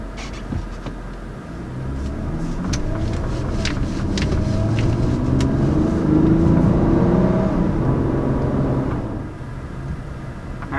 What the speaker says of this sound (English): that's actually a pretty decent exhaust sound